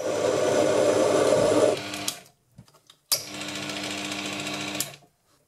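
A metal lathe runs while cutting a thread, giving a loud, steady mechanical whirr that stops abruptly, leaves a few faint clicks, then starts again for a second even pass before cutting off.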